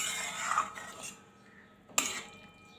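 A spoon stirs watermelon rind curry in a pan after soaked mustard powder goes in. Faint scraping and soft metallic clinks come first, then one sharper clink against the pan in an otherwise quiet kitchen.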